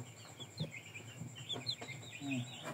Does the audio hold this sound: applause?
no